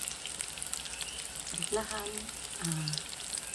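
Banana heart and tuna fritters (ukoy) sizzling in hot oil, a steady soft crackle at low level, with a person speaking briefly partway through.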